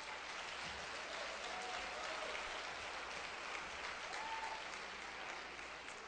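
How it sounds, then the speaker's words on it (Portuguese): A church congregation applauding together, a dense, sustained wash of clapping that holds steady throughout before easing slightly at the end. "Aplauda ao Senhor mesmo, amém?"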